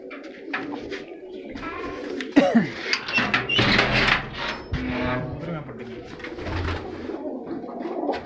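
Large hen pigeons at a pigeon-racing keeper's loft coo in soft, intermittent bursts, with a sharper wing flutter or clatter partway through and background voices talking throughout.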